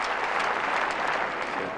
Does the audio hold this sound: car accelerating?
no